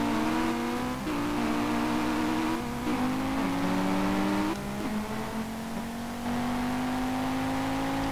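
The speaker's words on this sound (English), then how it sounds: "I'm out here just racing my five cylinder turbo Audi." Five-cylinder turbocharged Audi racing in Street Legal Racing Redline, its engine droning steadily and climbing through the revs, with brief dips at gear changes before pulling up again, loud and close without talk.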